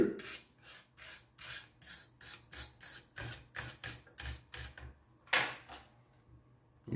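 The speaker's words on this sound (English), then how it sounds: "now let's clean motherboard and change thermal paste." Cleaning an ASUS X540L laptop motherboard: a series of rhythmic scrubbing or brushing strokes, close and moderately loud, in quick regular bursts with a brief pause before a final few strokes.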